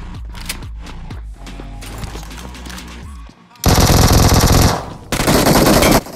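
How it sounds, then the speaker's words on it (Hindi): Loud automatic gunfire from an Uzi in the mobile battle royale game BGMI (PUBG Mobile), with two sustained bursts close and intense, following a stretch of quieter game sounds and distant shots. "दूर से कोई उजी चलाता है।"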